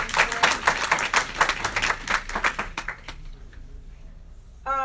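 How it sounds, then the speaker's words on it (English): Small audience clapping for leaders after testimonies, distinct hand claps in a quick uneven rhythm that thin out and stop partway through, followed by near quiet. "Let's give a round of applause for all the leaders that shared their testimony"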